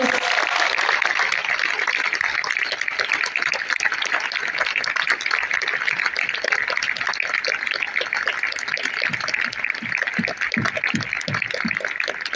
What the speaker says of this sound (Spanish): para quienes pido muy fuertes aplausos